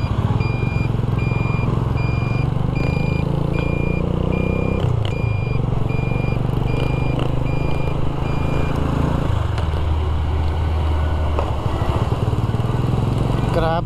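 Congested street traffic hums and rumbles continuously, with motorcycles and trucks idling and moving close by while a repeating reversing beep sounds over the engines for much of the scene.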